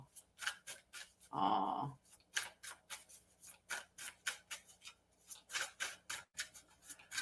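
A deck of cards being shuffled by hand, a run of quick crisp riffling snaps and taps with one longer rustling burst, close and fairly quiet, with a brief exclamation from a voice.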